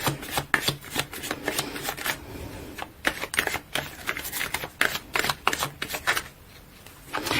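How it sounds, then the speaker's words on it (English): Tarot cards shuffled and pulled from a deck during a love reading, giving repeated soft slapping and riffling bursts, close and fairly quiet, with no talking over them. "let's pull a few cards to clarify situation"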